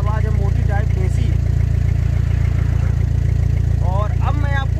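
A Tata Vista car idles with its silencer removed and only the catalytic converter fitted, giving a loud, deep, steady rumble throughout while someone talks over it.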